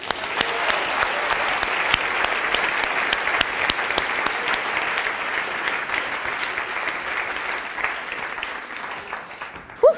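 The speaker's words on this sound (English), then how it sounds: "give them a big round of applause" Sustained audience applause at a science slam event in Vienna, steady dense clapping for several seconds that thins slightly toward the end.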